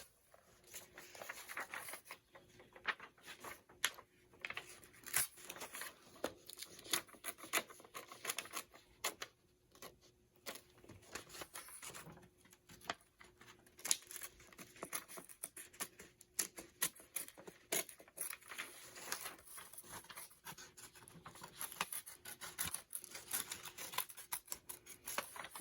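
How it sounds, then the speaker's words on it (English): Scissors snipping through paper while cutting out a paper flower craft, a close, rapid, irregular patter of small blade clicks and paper rustle running steadily with no talking. "now you just have to go get scissors and cut it out"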